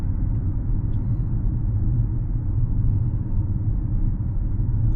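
Low, steady road rumble fills the cabin of a 2024 Infiniti QX50 riding on run-flat tires, a constant near drone with no voices.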